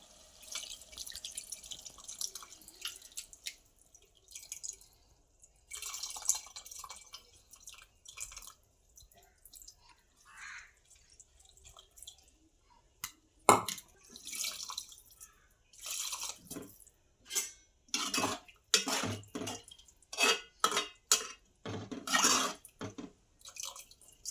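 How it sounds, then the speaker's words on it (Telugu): Tamarind water poured into a curry of okra and tomato. Irregular splashes and drips come close by, at first sparse and then denser, with no voices. "చింతపండు నీళ్ళు పోద్దాం."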